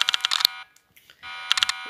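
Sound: alarm going off in Roblox video game

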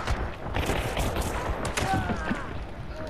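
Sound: silenced guns firing in a video game gunfight

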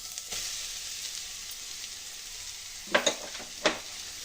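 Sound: grated carrot being stirred and cooked in a pan

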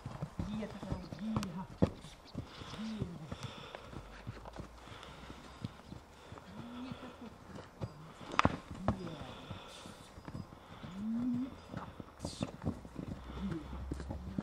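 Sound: heavy Belgian horses walking, hooves clip-clopping

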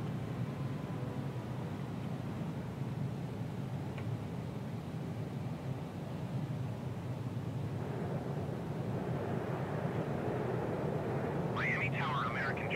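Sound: Air Canada Rouge Airbus A319 landing, video game MSFS 2020

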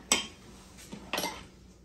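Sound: knife cutting steak on a plate

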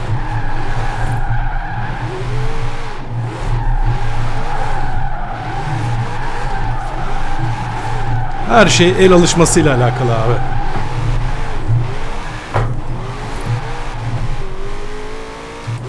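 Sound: Shelby GT500 drifting with tire squeal in Forza Horizon 4 video game

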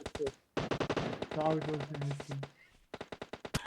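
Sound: gunfire in video game PUBG Mobile

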